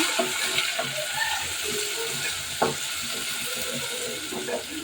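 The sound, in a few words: onions sautéing in a pan for chicken biryani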